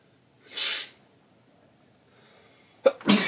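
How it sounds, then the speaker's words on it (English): A breathy intake is followed after a pause by a short, forceful sneeze burst, close and loud, with no talking. "You see, I'm getting these very ferocious, violent sneezes."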